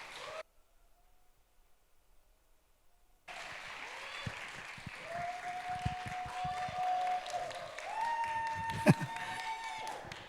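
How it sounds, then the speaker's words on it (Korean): Congregation at a Sunday young-adults church service applauding to welcome a speaker. After a brief near-silent pause, steady clapping rises and continues at a moderate level, with a tone and a voice faintly audible beneath. "나올 때 박수로 따뜻하게 환영해 주시면 감사하겠습니다."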